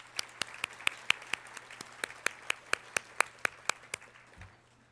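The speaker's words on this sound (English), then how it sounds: "please, one more round of applause for our sponsors and our musicians tonight" Scattered applause from an awards program audience honoring sponsors and musicians: about seventeen sharp, evenly spaced claps in a steady rhythm, fairly close and dry, fading out at the end with a low hum underneath.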